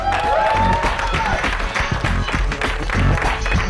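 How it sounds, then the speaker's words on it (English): A comedy-show crowd applauding loudly and continuously, with some cheering mixed in and a voice faintly audible underneath. "Ladies and gentlemen, a big round of applause"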